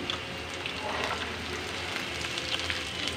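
Green peas tumbling into chopped onions and green chilies in hot mustard oil, giving a steady, dense sizzle of frying with faint stirring scrapes throughout, close and moderately loud.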